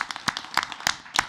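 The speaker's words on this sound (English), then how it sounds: "Let's give her a round of applause." A few scattered, sparse claps sound at a school district board of education meeting, irregular and fairly close, fading quickly.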